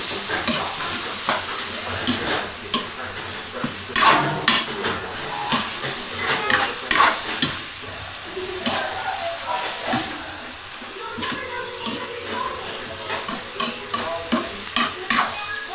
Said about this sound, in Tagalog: Tapos haluin mo lang para mahalong sa kamatis.